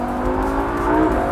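A 2017 Lamborghini Huracan accelerates at speed, its engine a loud, steady roar with rising tones under strong road and wind noise, heard from inside the car.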